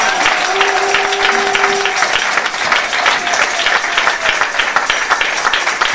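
A church congregation applauds and acclaims the name of Jesus, a steady, loud wash of clapping and cheering voices that fills the room throughout, with a sustained tone briefly sounding beneath it.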